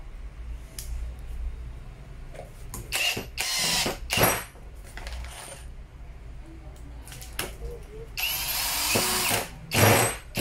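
A DCA cordless drill rated at 120 N·m runs in several loud bursts of differing length, separated by short quiet gaps with faint background noise.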